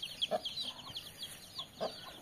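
A hen clucks softly among her chicks in a small poultry setting, giving a few short, low clucks spaced over two seconds against faint, thin high-pitched peeping.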